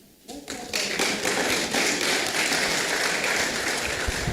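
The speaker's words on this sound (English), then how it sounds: "Let's clap for engineers again." An audience at a college lecture breaks into sustained clapping that swells quickly after a quiet start and holds steady, dense and close, with no talk over it.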